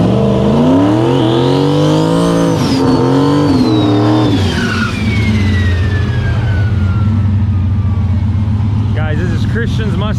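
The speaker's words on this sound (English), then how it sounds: "this is Christian's Mustang" A Ford Mustang street car, entered in a street car shootout, revs loudly up close, its engine pitch rising and falling in sweeps before settling into a steady rumble, with people talking over it.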